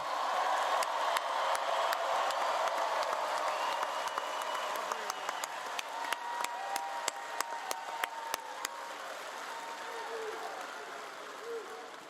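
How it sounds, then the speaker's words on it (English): A large political rally crowd in Monroe, Louisiana, in November 2019 claps steadily in a dense, sustained roar, with sharper individual claps standing out near the end. "Let's give him another round of applause."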